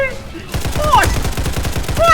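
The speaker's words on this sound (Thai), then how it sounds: "เล่นเกมแนวยิงปืน" Rapid gunfire from a shooting video game, a steady string of repeated shots after a quiet opening, with bright whooshing game effects on top.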